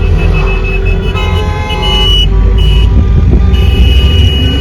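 A car horn honks repeatedly, in short and longer toots over steady engine and road rumble, while driving in a Turkish wedding procession to fetch the bride.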